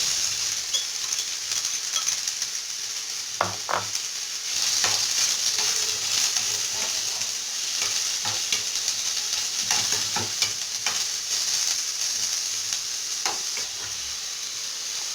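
Onion sizzling and frying in oil in a pan, a steady broadband hiss with occasional stirring clicks and scrapes throughout, close and fairly loud, with no talking.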